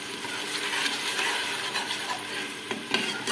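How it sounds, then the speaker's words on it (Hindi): Tomato paste stirred into ginger garlic paste frying in a pan for an arbi baingan curry, a continuous soft sizzle with occasional clinks and scrapes of a utensil near the end. "अब इसमें टमाटर पेस्ट शामिल करेंगे।"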